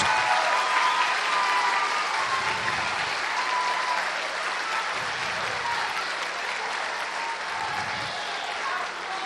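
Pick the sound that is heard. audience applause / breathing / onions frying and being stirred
audience applause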